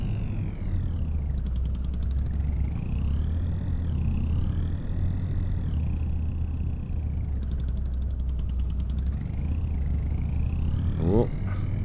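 A tractor or farm vehicle drives in Farming Simulator 22, giving a steady, loud low engine drone with a slowly wavering higher whine that holds for the whole stretch.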